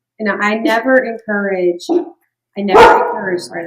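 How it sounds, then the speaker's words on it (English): A pet dog barks indoors in a home while someone talks. There is one short, sharp bark near the end, partly under the speech. "that's my dog"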